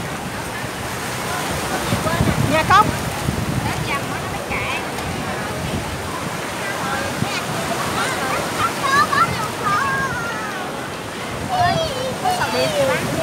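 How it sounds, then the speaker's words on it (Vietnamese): Large sea waves roll in on a beach, a steady loud wash with wind buffeting the microphone, while people talk and call out over it throughout. "biển lớn, nước lớn gì sao bác?"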